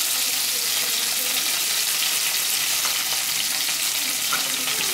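Curry leaves frying in hot oil for a fish curry, giving a loud, continuous close-up sizzle and crackle that holds steady throughout with no voices.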